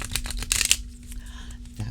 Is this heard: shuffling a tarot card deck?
yes